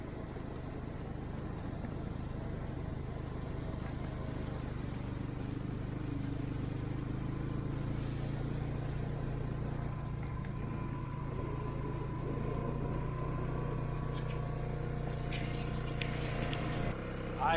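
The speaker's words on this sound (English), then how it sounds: "Got a pretty long ride down this mountain on the 4-wheeler." Four-wheeler ATV riding down a mountain on a whitetail hunting trip, with a steady low engine drone and rumble holding throughout at close range.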